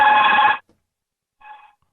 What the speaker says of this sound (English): Yeah, that's the work phone. It's pretty loud.